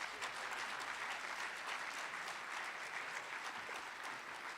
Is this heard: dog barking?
no